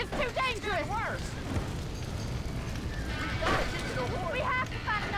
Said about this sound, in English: Somebody get them horses out!